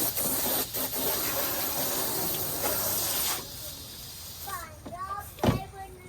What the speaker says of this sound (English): Spray the table off.